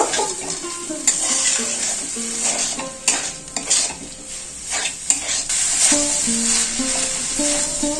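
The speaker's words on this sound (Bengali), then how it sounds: "এর মধ্যে আমি ভেজে রাখা আলুগুলো দিয়ে দেব চিংড়ি মাছটা দিয়ে দেব আর দেব এখানে হাফ চামচ চিনি আর একটু কষিয়ে নেব" Banana flower with fried potatoes and prawns sautés in a pan, a steady close sizzle broken by scraping spatula strokes and clinks of metal on the pan, with no talking.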